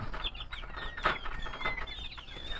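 Backyard pet chickens cluck softly around feeding time, with scattered short calls and chirps over a low, continuous farmyard background. No talking.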